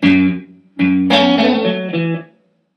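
A short, quick distorted electric guitar riff plays a handful of notes in a fast run at full speed, then stops and fades to silence.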